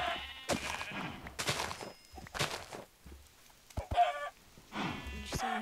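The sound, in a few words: sheep bleating in video game Minecraft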